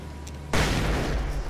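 A flashbang grenade goes off in the video game Alan Wake Remastered, a sudden loud blast that erupts and then lingers as a broad roaring ring.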